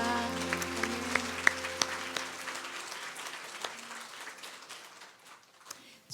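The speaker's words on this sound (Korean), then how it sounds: "주님께 영광의 박수 올립시다" A church congregation at a mothers' prayer meeting claps in praise, a moderate scattered applause from a hall that thins and fades out over a few seconds.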